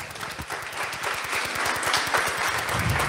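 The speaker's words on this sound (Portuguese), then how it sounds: "Se você crê, aplauda o nome de Jesus." A church congregation applauding together during a family worship service, steady rhythmic clapping from many hands that swells slightly toward the end, with no speech over it.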